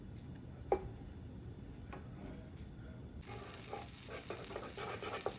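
Butter starts to sizzle in a hot pan over a stovetop flame, a soft steady frying hiss rising midway and continuing with small crackles and pops.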